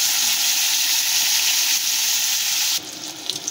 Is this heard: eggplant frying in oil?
yes